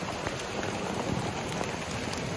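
Heavy rain pours down steadily in Kyiv during a flooding downpour, a dense, continuous hiss of rainfall close by with no voices.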